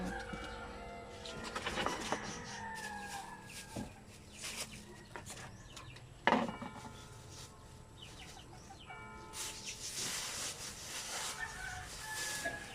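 Chickens cluck and squawk steadily nearby, with a rooster's crow rising through the flock and a sharp knock partway through.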